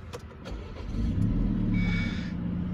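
A 2017 Volvo V60 Polestar with a recently replaced starter and battery fires up quickly, its engine catching and rising into a steady, close idle rumble.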